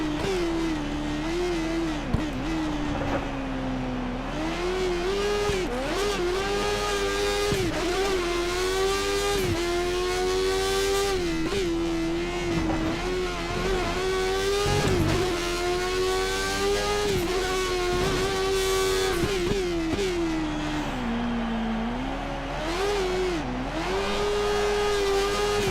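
Race car engine from the Formula 1 2013 video game in a 1980s-era car at Montreal, a loud continuous high-pitched whine rising and falling through gear changes and corners, with no talk.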